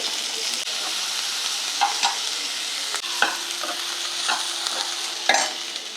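Two small onions, sliced, frying in a pan with green chilli and ginger, with a steady soft sizzle and a few sharp scrapes and taps of a spatula stirring them, close up.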